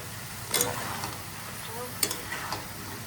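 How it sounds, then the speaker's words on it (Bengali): A beef tripe curry sizzles steadily in a frying pan, with a couple of sharp stirring scrapes breaking through the frying hiss. "ভালো করে কষিয়ে নেব।"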